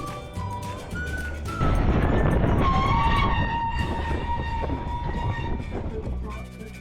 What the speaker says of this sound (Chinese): 小火车的行驶路线会经过一座铁桥